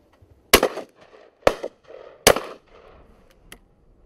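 Three loud, sharp shotgun blasts ring out at dusk during a duck flight, spaced about a second apart, each with a short echoing tail, followed by fainter rustling and movement between shots.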